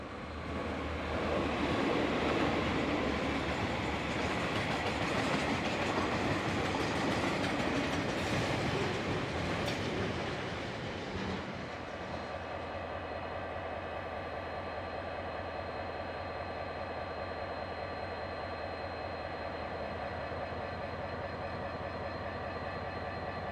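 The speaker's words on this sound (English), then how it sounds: "DL9112 came rolling past the station with train 138 from Hangatiki" Locomotive DL9112 rolls past a New Zealand station hauling train 138 from Hangatiki to Mission Bush, a loud steady rumble and rhythmic wheel clatter that eases after a while into a lower diesel drone.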